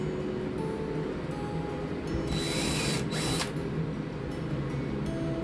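Power drill boring screw holes through wooden boards while building a couch for a bus conversion; a steady mechanical whine with a brief, harsher burst midway, heard alone at moderate level.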